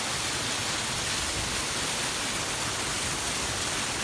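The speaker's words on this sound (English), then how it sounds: "If you look closely in the waterfall, you can see the water flowing." Water pouring continuously over a snowy waterfall, a loud, steady, broadband roar that holds unchanged throughout.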